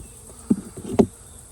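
Honey bees around opened hive frames in an apiary: low insect buzzing, close and moderate, with two short louder buzzing swells as bees pass near, no talking.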